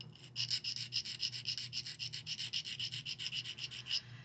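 Rapid back-and-forth rasping of sanding glaze lumps off a hard ceramic spoon, close and rhythmic, about eight strokes per second for several seconds.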